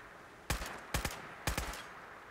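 Gunfire in Fallout 4 as an enemy is shot: three sharp bursts of two or three quick shots each, evenly spaced over a faint background hum, no speech.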